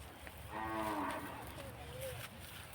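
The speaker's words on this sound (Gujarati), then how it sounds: "બાબુલાલ પાસેથી તો ભેંસ તો લીધી" Buffalo lowing faintly at a distance: one drawn-out moo, then a shorter, thinner call a moment later, over a soft background hiss with no talking.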